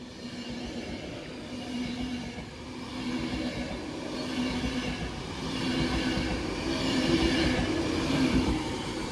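A Class 390 Pendolino electric train crawls past slowly, a sustained rumble of wheels on rails with faint squealing tones that slowly swells louder, heard alone without talk.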